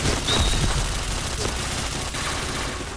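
Dense gunfire fills the online shooter Point Blank, with a continuous rattling fusillade of rapid shots, loud and constant throughout.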